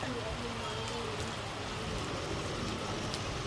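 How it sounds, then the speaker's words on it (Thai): Continuous rain falls steadily outdoors under an overcast sky, producing an even, unbroken hiss that stays at one level throughout. "ฝนก็ ตกต่อเนื่องนะครับ"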